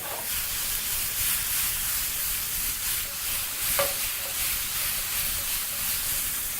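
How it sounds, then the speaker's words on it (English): Beef searing in a pan over very high heat, giving a loud, continuous close-up sizzle and hiss with brief stirring scrapes. "Doing this, of course, at very high heat to make sure you actually just seal the meat and avoid it from also overcooking"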